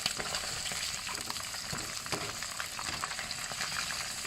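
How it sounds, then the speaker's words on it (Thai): Batter-coated shrimp deep frying in oil, giving a dense, steady bubbling sizzle that holds at an even level throughout, close and alone. "เราจะทอดกุ้งให้เสร็จเรียบร้อยก่อนนะคะ"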